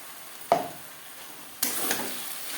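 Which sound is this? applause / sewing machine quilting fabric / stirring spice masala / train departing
stirring spice masala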